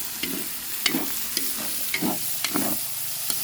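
Carrots go into a pan of sautéed onion and garlic for pancit bihon, giving a soft sizzle with repeated scraping stirs of a utensil, close and moderately quiet, with no talking.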